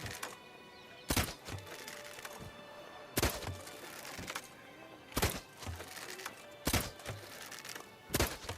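Shots striking red targets in The Witcher 3: Blood and Wine, five sharp wooden thunks spaced about two seconds apart over a quiet ambient background.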